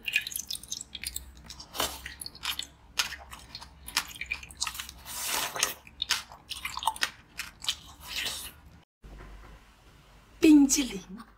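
Ice being bitten and crunched close to the mic during mukbang eating, with irregular sharp crunches and chewing bursts, a brief silent gap, and a short voice near the end.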